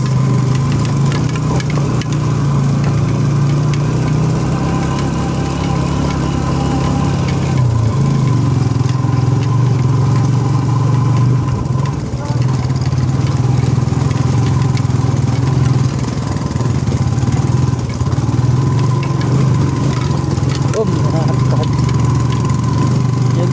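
A motorcycle engine holds a steady mid-pitched drone while the bike is ridden along a road, loud and constant throughout with a slight change in tone partway, rain-soaked conditions noted, no speech over it.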